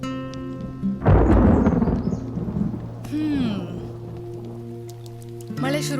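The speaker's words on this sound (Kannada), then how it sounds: "ಮಳೆ ಶುರುವಾಯ್ತು" A loud rumble of thunder breaks in over falling rain, followed by steady rainfall with a voice and other tonal background sounds mixed in.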